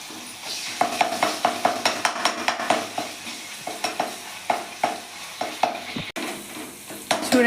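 Ginger paste sizzles in hot oil for a fish curry, with a steady close frying hiss broken by a quick, regular run of spoon scrapes and taps against the pan.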